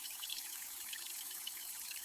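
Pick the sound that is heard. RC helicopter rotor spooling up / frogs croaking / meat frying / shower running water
shower running water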